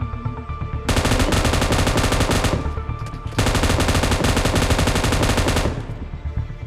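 An MK14 rifle in PUBG Mobile fires two long, dense bursts of rapid, loud gunshots separated by a short gap, with no voices over it.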